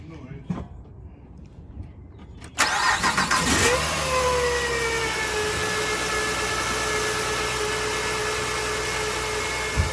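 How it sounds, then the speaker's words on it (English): A Honda Pilot engine cranks and catches, then settles into a steady idle with a thin, high whine from a failing alternator sustained above the running engine. "Yeah, sounds like a whining alternator."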